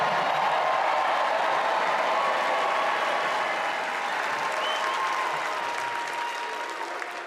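Sustained applause with cheering from a large convention crowd at the Democratic National Convention, dense and steady throughout, slowly easing slightly toward the end.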